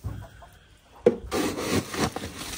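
Chickens in a backyard coop cluck and scratch close by during morning feeding, quiet at first and then a sudden busy burst of clucks and rustling that carries on to the end.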